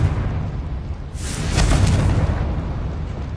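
A Confringo fire spell explodes in Hogwarts Legacy as a single broad, roaring burst that swells to a dense peak and then tails off over a steady low game rumble. No voices are heard.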